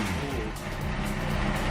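A 2007 Kawasaki Ninja ZX6R, revived after sitting ten years, idles and runs with a dense, steady engine rumble close by, briefly dipping then rising again.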